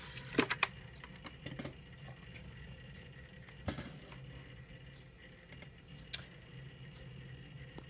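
Faint, sparse clicks and taps of keys on a computer keyboard at a Windows 98 PC, with scattered keystrokes over a steady background hum and no voices.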